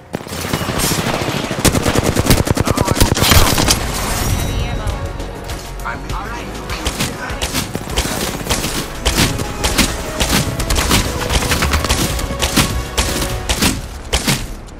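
Loud, sustained automatic gunfire in Apex Legends, dense rattling bursts packed with impacts for many seconds, with game voice lines and speech mixed in.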